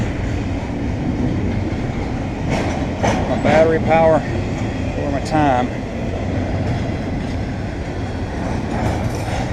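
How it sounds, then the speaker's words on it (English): A Norfolk Southern freight train rolls along the tracks near an abandoned 19th-century railroad tunnel, giving a steady heavy rumble with brief high wheel squeals. Someone talks over the noise. "And here comes another train coming back the other way."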